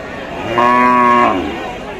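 A cow gives a single loud, drawn-out moo close by, rising out of quiet farmyard background and fading after about a second.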